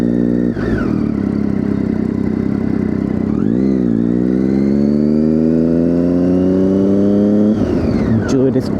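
A Triumph Daytona 675 motorcycle engine while riding, a loud, steady mid-pitched drone that dips briefly and then climbs smoothly in pitch as the bike accelerates, close to the rider throughout.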